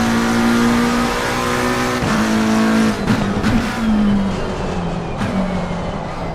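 A race car engine in a sim-racing game drones loudly at a steady pitch, cuts abruptly during gear changes and drops, with faint tire squeal as the car brakes into a corner.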